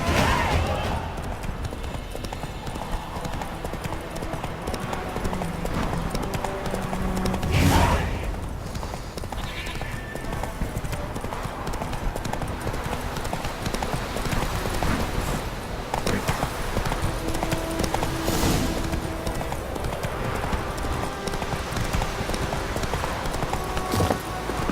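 Roach, Geralt's horse in The Witcher 3, gallops with steady, rapid hoofbeats, close and continuous, with a brief snort or whinny midway and a voice speaking faintly at times under the hooves.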